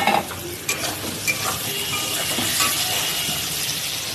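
Onion and green chilli sizzling and being stirred in a frying pan, with tomato going in; a steady close hiss of frying oil with scraping stir strokes, no voices.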